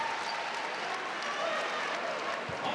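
A women's college basketball crowd cheers and applauds steadily throughout, a dense wash of clapping and voices from the arena stands.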